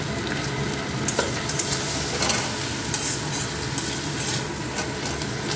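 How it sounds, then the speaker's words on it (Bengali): Tomatoes frying with salt in a pan, a continuous close sizzle with scraping stir strokes and small clatters throughout. "টমেটো দিয়ে দিয়েছে, যা একটু ফ্রাই করে নেবে টমেটোটা"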